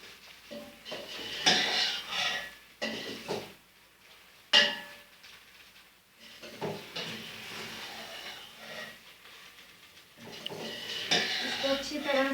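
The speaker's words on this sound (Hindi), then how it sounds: "इसको अच्छी तरह से हिला लें ताकि ये मिक्स हो जाए।" A spoon stirring rice and vegetables in a cooking pot makes irregular scraping and clinking metal sounds, moderately close, with someone talking over them.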